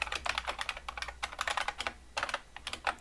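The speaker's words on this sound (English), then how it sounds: "I am bad at typing today." Fast, uneven bursts of typing on a computer keyboard while installing Windows 95 in an emulator, close crisp key clicks in quick clusters with short pauses between them.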